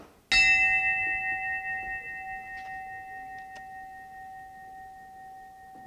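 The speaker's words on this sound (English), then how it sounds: "we give a final ring of the bell and a moment of silence" A single ceremonial bell struck in memory of departed members at a Rotary club centennial gathering, one clear ring that decays slowly into a quiet room with a few faint clicks.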